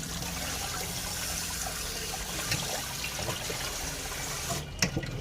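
Water from washed beef tripe drains into a stainless strainer, making a steady, faint, close splashing and trickling sound with a small clatter near the end.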